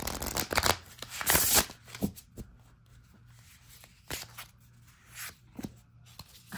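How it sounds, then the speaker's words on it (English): An oracle card deck being shuffled, with crisp riffling and sliding bursts followed by softer scattered card handling and a draw, close and fairly loud, no speech. "Let's just draw a card."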